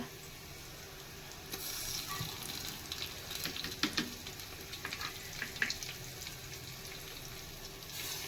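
Ginger paste dropped into a pan of cooking duck curry, a faint steady sizzle with soft stirring and scraping clicks building partway through, no talk.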